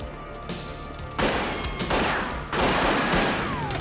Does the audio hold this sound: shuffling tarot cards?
no